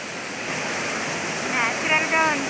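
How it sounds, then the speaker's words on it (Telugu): An artificial waterfall at an expo pours with a steady, dense rush of falling water, loud and continuous throughout, with faint voices rising briefly near the end. "వాటర్ ఫాల్స్ కూడా ఉన్నాయి. చూడండి, న్యాచురల్ వాటర్ ఫాల్స్ లాగా బాగా సృష్టించారు."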